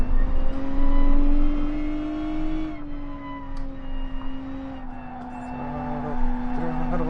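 Lotus race car in Gran Turismo Sport on the Nordschleife, engine droning loud and steady at high revs, pitch easing slightly then climbing again, with someone talking faintly over it.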